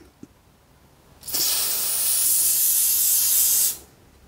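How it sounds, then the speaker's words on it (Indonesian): Antiseptic spray hisses onto a mixer fader in one continuous burst of about two and a half seconds, loud and close, starting and stopping sharply, after a small click and quiet room tone. "dia saya akan semprotkan ini"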